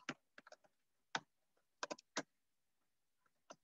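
Quiet, scattered keystrokes on a computer keyboard, a few isolated taps and small clusters of clicks separated by pauses, close and faint with no talking.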